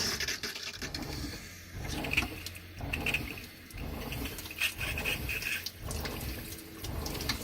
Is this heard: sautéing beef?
no